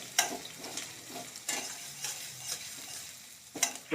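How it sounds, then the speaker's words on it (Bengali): Onions frying and stirred in a pan while cooking a quail egg curry: intermittent scrapes and clinks of a utensil stirring over a soft steady sizzle, with sharper strokes at a few points and no talk. "তো পেঁয়াজটা ভাজা হয়ে গিয়েছে,"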